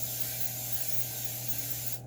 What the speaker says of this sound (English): I'm gonna spray it with some nonstick cooking spray.